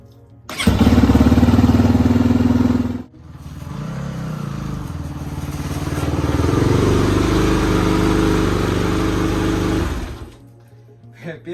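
A Kamax GR8 300 four-stroke motorcycle engine starts on the first try and runs at a loud, close idle. A steady rumble with a brief dip is followed by a slightly raised, even drone before it cuts off.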